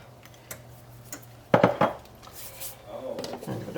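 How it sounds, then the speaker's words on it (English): Spoon scraping and clinking in a pot as minced garlic is stirred into a South African beef and tomato stew, a few close knocks and scrapes, with faint voice in the background. "And give it a bit of a stir in."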